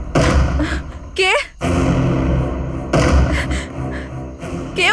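Heavy thumps of someone banging on a door land in bursts, loud and close, mixed in with voices and strained vocal sounds.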